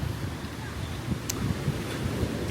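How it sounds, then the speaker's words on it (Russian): Steady wind rushes past outdoors by the sea at Sihanoukville, Cambodia, with Pacific surf washing in the background, a constant breezy roar with no clear voices. "Дует ветер, прям прохладно."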